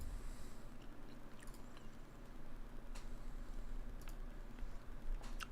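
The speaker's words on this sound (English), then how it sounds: "I know I'm chewing a gum right now" Gum being chewed close to the mic: faint, soft wet clicks and smacks at irregular intervals over a quiet hiss, with no talking.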